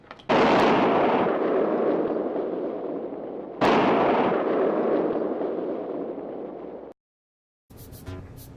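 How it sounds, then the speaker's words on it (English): Guns fired in salute as a sound effect: two loud booming blasts a few seconds apart, each rolling away in a long echoing decay, followed by a short silence and faint crackling. "Go outside and fire the guns in honor of Hamlet."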